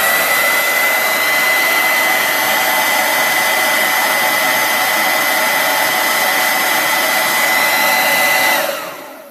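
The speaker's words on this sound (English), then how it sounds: "So I'm going to plug my hair dryer in." A hair dryer running on its highest setting gives a steady, loud whirring blow with a high whine that holds for about eight seconds, then winds down as it is switched off.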